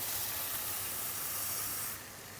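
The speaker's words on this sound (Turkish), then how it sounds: "Şöyle pirincimi şimdi içine dökeceğim." Rice grains poured into a hot pan for Turkish pilaf, ready to be toasted, give a loud, steady sizzling hiss that holds for about two seconds and then eases slightly lower.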